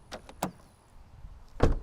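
A car door, on a car raised on one jack stand, unlatches and swings open with a couple of sharp clicks, then a heavier thunk near the end, close up.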